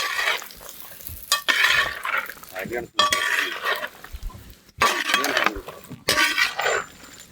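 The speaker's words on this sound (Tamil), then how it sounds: "தேங்காய் வறுத்து எடுக்கணும், அரைச்சியும் இறக்குறோம், தேங்காய் எண்ணெயில் இறக்குறோம்" Grated coconut roasting in coconut oil in a pan, with vigorous spatula stirring and scraping in loud bursts, metallic clinks and short pauses between strokes.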